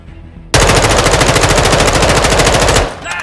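Assault rifle fire in Call of Duty: Modern Warfare II, a loud sustained automatic burst of rapid, evenly spaced shots lasting over two seconds, starting abruptly after a quiet moment and cutting off sharply.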